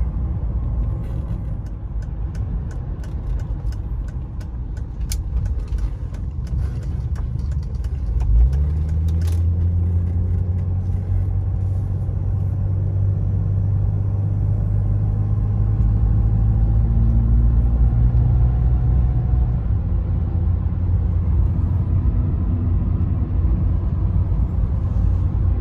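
Cabin ride in a 1993 Mercedes-Benz 300E W124 on the road, a steady low rumble of engine and tyres that is fairly quiet, with a deeper engine drone rising partway through.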